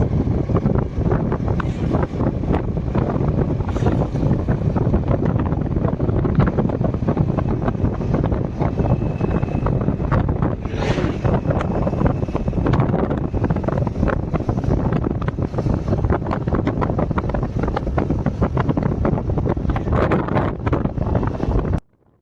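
Continuous heavy wind rush buffets the microphone during a motorbike ride, a steady roar with the bike's engine hum buried underneath, ending abruptly.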